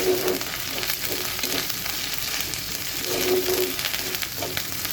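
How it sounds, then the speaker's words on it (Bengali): Ginger paste sizzling and frying in ghee with onions and cinnamon in a pan, a steady close crackling hiss with occasional stirring scrapes throughout, no talking. "ভাজা পেঁয়াজের মধ্যে এখন আমি সামান্য পরিমাণ আদা বাটা দিয়ে দিচ্ছি"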